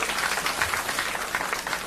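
Audience applause at a cabaret show, a dense, steady patter of clapping from a crowd filling the whole stretch without pause.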